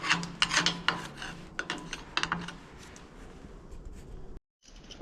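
Debris is dug and scraped out of the feeder throat of a Gleaner R52 combine, giving close, rapid scratchy rasps and clicks that thin out before a short pause.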